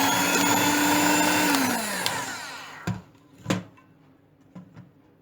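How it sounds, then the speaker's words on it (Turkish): An electric mixer whisking pudding whirs steadily and loudly for about two seconds, winds down as it is switched off, then a few clinks and knocks follow. "Şimdi muhallebimizi 2-3 dakika kadar mikserden çırpalım."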